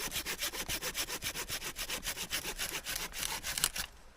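Hand saw cutting firewood in a snowy camp, a steady back-and-forth rasp of about twenty quick strokes that stops near the end.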